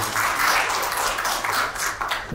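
A crowd at an assembly claps together in a steady, fairly loud burst of applause, many hands overlapping evenly throughout with no speech over it.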